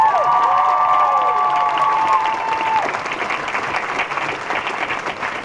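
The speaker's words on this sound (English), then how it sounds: "let's give them another round of applause" A panel audience at LeakyCon 2012 in Chicago breaks into loud, sustained applause with some cheering, steady throughout; a squeal of microphone feedback rings out at the start.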